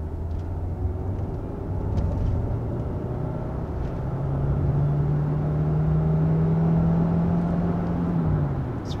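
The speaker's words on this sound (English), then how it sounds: "Starting off this drive, we're just kind of putting along in EV mode" A 2022 Kia Sorento Plug-In Hybrid cruises in electric mode, a steady low road and tire rumble inside the cabin with a faint rising electric whine, quiet and without talk.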